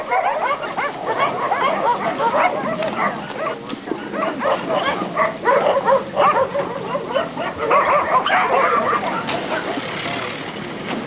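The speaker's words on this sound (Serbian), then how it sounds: "To su sve napušteni bivši vlasnički psi." A pack of abandoned former pet dogs at a shelter barks, yips and whimpers continuously, many dogs overlapping close by in a loud, restless chorus.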